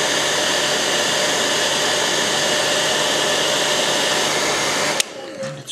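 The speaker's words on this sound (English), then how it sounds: "let me dry this with my hairdryer a little fast." A hair dryer blowing on wet paint on a miniature figure, a loud, steady broadband whoosh running continuously for about five seconds before cutting off abruptly with a click.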